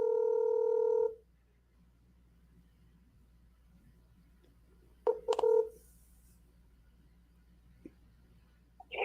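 A telephone dials out to Sami Zayn: a loud steady tone opens, then a short burst of dialing tones follows after a pause, with faint background hum and a click near the end.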